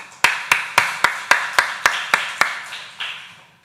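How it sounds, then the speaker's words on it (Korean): A church congregation at a Friday evening service claps together in unison, about ten crisp, evenly spaced claps, loud and close, with a brief pause before the last one. "하나님께 박수하겠습니다."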